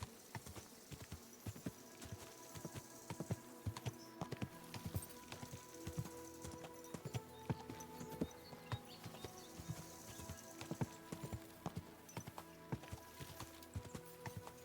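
A horse walks in Kingdom Come Deliverance 2, its hooves giving a steady, even clip-clop rhythm of many quick footfalls at moderate distance, fairly quiet, with no talk over them.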